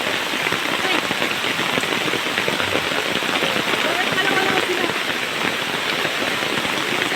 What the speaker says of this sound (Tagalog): malakas na po yung ulan